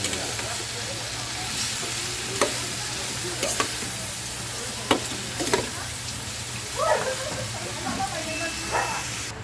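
Sayote dish being stirred in a cooking pot: scattered scraping clicks of a utensil against the pot over a steady low simmering hiss, close and moderately quiet, with no talk.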